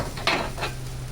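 Garlicky food flipped in a pan: a quick scrape and clatter of the utensil against the pan, then a softer second scrape over a low steady sizzle, close and fairly quiet.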